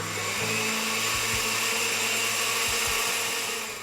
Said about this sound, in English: Add 1/2 cup of the nuts to the blender and puree all the ingredients together.